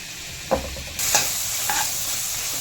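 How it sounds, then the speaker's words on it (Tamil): Onions sauté in a hot pan with a soft, steady sizzle. A few brief scrapes from stirring sound close by, and a louder hiss swells partway through. "வெங்காயம் வதங்குது."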